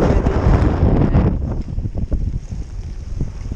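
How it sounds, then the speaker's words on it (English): Strong wind buffets the microphone with heavy, roaring gusts that ease slightly, leaving uneven rumbling bursts. "It is really windy"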